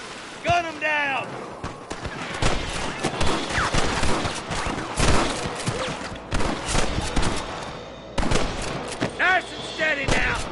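Repeated gunshots and scattered volleys crack through a Red Dead shootout against rustlers, near and loud throughout, with shouted voices breaking in at the start and end.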